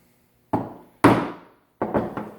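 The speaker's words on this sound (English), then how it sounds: "really just all about chopping the mortise" Three hard wooden thunks of a chisel being struck to chop a mortise by hand, each sharp hit decaying quickly, the last a quick double-struck cluster, close and clear in a quiet room.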